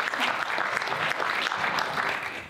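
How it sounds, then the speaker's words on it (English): An audience claps for the first panelist introduced at a health discussion panel, a steady wash of applause lasting a few seconds and fading slightly at the end, with no voices over it. "Want to clap individually?"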